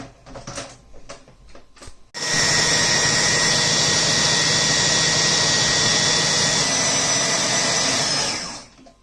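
A mixer blends homemade Nutella with added icing sugar, starting after a few soft clatters and then whirring loud and constant for about six seconds before spinning down.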